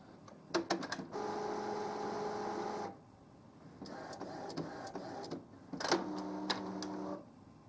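An Epson XP-520 inkjet printer restarting after a waste ink counter reset, with rapid mechanical clicks, a sustained whirring motor run that pauses, then more whirring and clicking bursts, close and fairly quiet.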